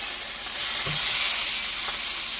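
A beef roast for Mississippi pot roast searing in a hot pan, giving a loud, steady hiss and sizzle close up, with faint low knocks underneath.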